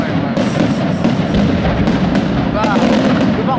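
Firework shells boom and crackle in a dense, continuous barrage at a Fallas fireworks castle in Turís, 2011, with sharp bursts layered over a loud rumble and voices talking nearby.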